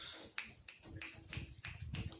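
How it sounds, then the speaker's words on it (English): Six sharp finger snaps spaced at a steady rhythm, about one every third of a second, close and crisp over quiet room noise. "Snap your fingers."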